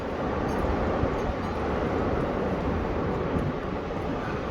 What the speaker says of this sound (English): Absolutely insane wind gusts today.